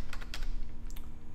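Rapid keystrokes on a computer keyboard as an address is typed into a browser, a short close burst of clicking over a steady low hum.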